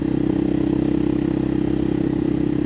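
A 2024 KTM EXC-F 500 TPI dirt bike fitted with an FMF muffler runs steadily nearby, a loud, even engine drone with a fast pulsing beat and no audible voices.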